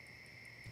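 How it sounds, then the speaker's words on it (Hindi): A phone being dialed, with a steady tone pulsing faintly and regularly in a quiet room, then a slightly louder change at the end. "तुम चिंटू को फोन लगाओ"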